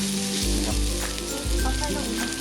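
Spices stir-fried in hot oil as the base for Thai braised pork leg with eggs: a steady, close sizzle broken by a few heavy scraping stirs of the pan, with no talking.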